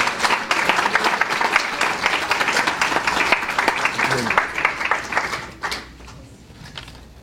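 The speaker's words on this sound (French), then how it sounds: "On peut donner une main d'applaudissement au Dieu qui sauve encore aujourd'hui" A church congregation applauds together in a long stretch of dense, steady clapping that thins out toward the end, with voices mixed in.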